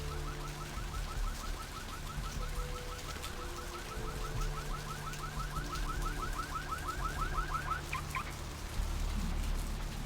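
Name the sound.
alarm ringing in the video game Vampire The Masquerade Bloodlines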